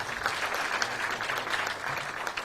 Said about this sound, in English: Another round of applause, kindly.